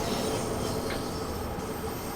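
A passing train on the opposite track in Train Sim World 2 on the London Underground Bakerloo Line: a steady, broad rumble of rolling wheels and rail noise, continuous and fairly loud for the whole stretch, with no talking.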